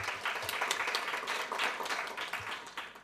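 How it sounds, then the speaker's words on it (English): An audience at a youth, green and digital conference claps steadily for an introduced speaker, a dense, even round of applause lasting a few seconds. "A round of applause"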